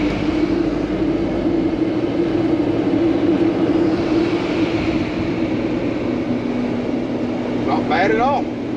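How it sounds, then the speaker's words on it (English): A 2009 Fleetwood Pulse 24D mini Class C motorhome with a Mercedes diesel engine cruises at 65 mph. Its cabin is filled with a steady, even drone of engine and road noise, and a brief voice sounds near the end. "We're cruising at 65. Smooth, quiet, minimal wind noise."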